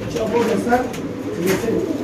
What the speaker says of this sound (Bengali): ফিরোজ ভাইয়ের হাতে আছে এক পিস রেসার কবুতর